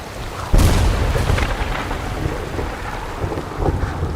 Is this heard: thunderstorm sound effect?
yes